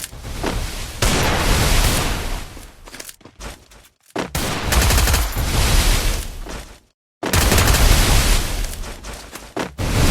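Gunfire in the Free Fire battle-royale game: dense bursts of rapid shots fill most of the stretch, broken by two brief silent gaps, loud and close throughout with no talking.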